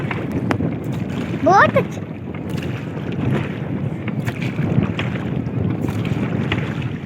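A boat ride on the water through the Pitchavaram mangroves, with steady wind buffeting and the broad rush of water and hull noise running continuously and fairly loud.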